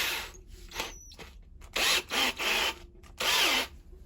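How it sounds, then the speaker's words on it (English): A dying power drill whines in short loud bursts, about five spurts with brief pauses between, its motor straining during a cant hook restoration. "this drill is dying"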